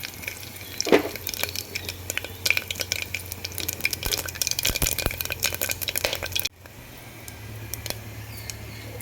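Whole spices stirred in a pot with a spoon for cauliflower biryani, close scraping and clinking strokes over a soft sizzle of hot oil, continuing steadily then quieter at the end.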